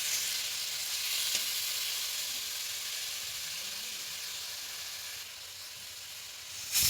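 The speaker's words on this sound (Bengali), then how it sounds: "এরপর তেল দিয়ে দেবো ভুঁড়ি কটা, ভালোভাবে ভেজে নেব" Goat tripe fries in hot oil with a steady, close, broadband sizzle that holds evenly throughout, ending in a brief louder burst; no one speaks.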